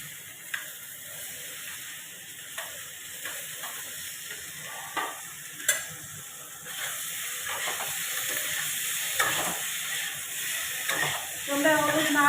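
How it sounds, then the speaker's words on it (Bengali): Paneer with salt and turmeric frying lightly in a pan gives a steady close sizzle with occasional clicks and scrapes of a utensil, moderate in level and continuous. "হালকা করে ভেজে নেবো পনিরগুলা।"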